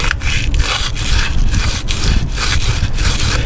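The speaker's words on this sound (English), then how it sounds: "you can use some of the emery cloth paper" Emery cloth rubbed back and forth against a corroded car battery terminal, making a rhythmic, close, rasping sanding sound in repeated strokes throughout, with no voices.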